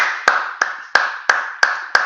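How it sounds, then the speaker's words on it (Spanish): Six sharp, evenly spaced hand claps, about three per second, each crisp and close with a short ringing tail, during a live online trading broadcast. The claps sound alone, in a steady rhythm rather than a crowd's ovation. "Vamos a dar un aplauso"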